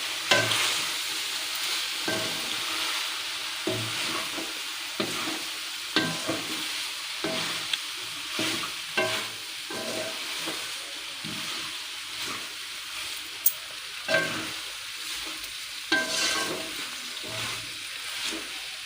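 Spices added to fried onions sizzle steadily in a hot pan while being stirred, with repeated scraping strokes throughout and a constant hiss of frying, no talking.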